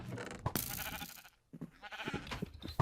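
Sheep bleating in a blocky sandbox survival game on sky islands, several short bleats over busy game noise with a brief quiet gap midway.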